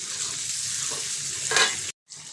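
Tomatoes with onion, ginger and garlic sauté in a pan, a steady close sizzle with a stirring scrape midway, cutting out briefly near the end.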